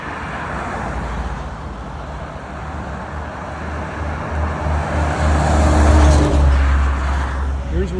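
Steady roadway traffic rumbles beside a park trail area where the road narrows, with cars passing at moderate distance and swelling louder toward the end, while someone talks over it.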